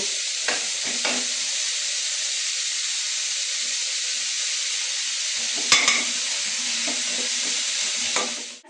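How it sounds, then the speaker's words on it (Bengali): Grated onion and tomato go into hot oil with bay leaf for a singi fish curry, and a loud, continuous sizzling hiss follows. It is broken by a few utensil knocks and scrapes, with a louder clatter about two-thirds through. "এরপর আমি গ্রেট করে রাখা পেঁয়াজ আর টমেটোটা এর মধ্যে দিয়ে দেব"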